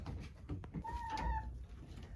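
Chickens cluck inside a coop in the morning, soft close clucks and a drawn-out tonal call over a low, busy background of fowl.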